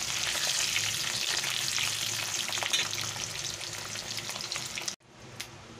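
Onion goes into hot oil left from frying eggs and sizzles loudly and steadily up close, with stirring scrapes, before cutting off abruptly near the end.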